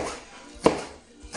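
A kitchen knife chops spring onions sideways on a board for a Chinese chicken stir fry, two distinct sharp chops about two-thirds of a second apart over a quiet background.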